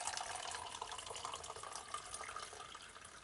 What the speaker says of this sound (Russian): Вскипятил чайник, заправил термос.